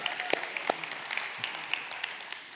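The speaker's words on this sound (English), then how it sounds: "We should clap for her." Congregation in a church claps together in a steady burst of applause, dense and even, with a few sharper individual claps standing out.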